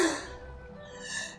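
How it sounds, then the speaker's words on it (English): One sneeze bursts out at the start, loud and close, then fades into quiet breathy sounds. "Sorry, I sneezed 2d4 time."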